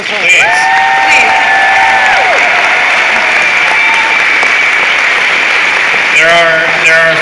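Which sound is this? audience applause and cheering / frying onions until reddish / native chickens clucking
audience applause and cheering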